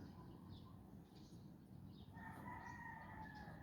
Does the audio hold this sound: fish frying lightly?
no